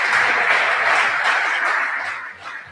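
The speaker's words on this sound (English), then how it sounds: "Okay, round of applause at the whānau" An audience at a community panel event claps steadily and densely for the first panelists, a broad sustained round of applause that tapers off near the end.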